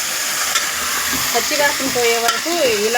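Potatoes frying and being stirred in a pan, a steady sizzle with spoon scrapes and stirring clatter close by; someone speaks briefly over the cooking.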